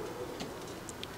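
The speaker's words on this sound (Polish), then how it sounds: "Przepiękny gołąb, centkowany." A spotted racing pigeon coos softly nearby, low murmuring calls with a few faint ticks against a quiet indoor background.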